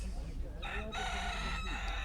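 A rooster crows amid a noisy poultry market in Isparta, Turkey, its drawn-out call rising over constant background chatter and clucking.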